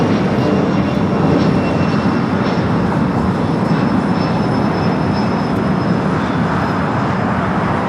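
A sports charter airplane takes off at LAX, its jet engines a loud, steady roar close by that holds without letup throughout.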